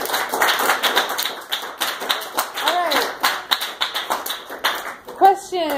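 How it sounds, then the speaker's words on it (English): Rhythmic hand clapping rings out in quick sharp bursts at the close of a talk, mixed with nearby voices and a cheer. "Clap, clap, clap, yay!"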